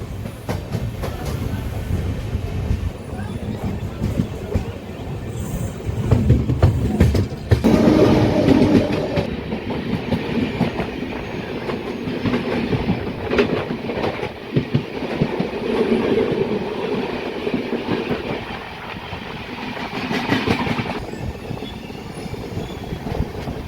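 A passenger train of new LHB coaches pulls out of Falaknuma railway station, its wheels and carriages giving a steady close rumble with rhythmic clatter and rising noise throughout.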